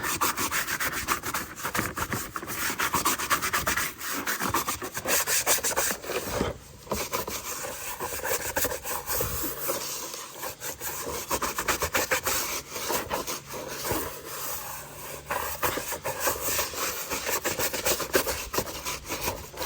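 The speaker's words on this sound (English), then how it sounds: "Got our brush here, we're gonna give it a good scrub." Stiff brush scrubbing a foamy car floor mat treated with McKee's 37 rejuvenator, close rhythmic bristle rubbing strokes in a continuous scratchy back-and-forth with brief pauses.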